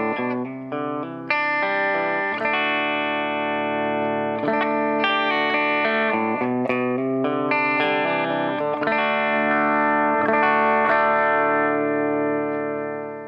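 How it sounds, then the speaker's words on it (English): A clean electric guitar played through a compressor pedal from a single pickup position, with even, sustained chords and picked notes flowing steadily for over ten seconds, smooth and level. "So a whole range of tones available with a compressor pedal just from one pickup position."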